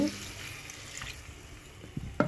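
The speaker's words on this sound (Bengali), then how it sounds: "মশলা ধোয়া জলটা দিয়ে ভালো করে মশলাটাকে আলুর সঙ্গে কষিয়ে নেব" Potatoes and spices fry in a pan with a soft sizzle and stirring, faint and close, ending with a couple of clinks from the utensil against the pan.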